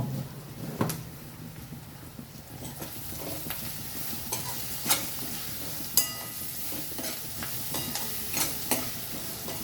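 Onions fry in a pan with salt, giving a soft continuous sizzle broken by repeated scraping and clinking as they are stirred, fairly quiet and with no voices.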